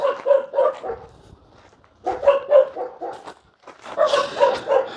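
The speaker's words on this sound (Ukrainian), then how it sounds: "надіюсь, ці собаки не, не помішають мені вам все спокійно розказати" Dogs bark in quick bursts of several yaps each, with pauses between the bursts, fairly close and loud.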